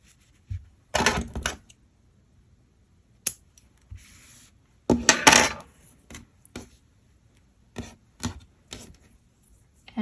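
Scissors snip through crochet yarn in a few short, crisp bursts, the loudest two a few seconds apart, with quieter clicks and handling noises between them in an otherwise quiet room.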